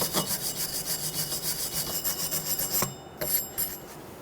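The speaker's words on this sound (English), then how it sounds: "get all the rust off. I like to use a copper or a metal wire brush." Brass wire brush scrubbing rust off a brake hub with rapid back-and-forth rasping strokes, close and steady, then a pause and a few harsher scrubs near the end.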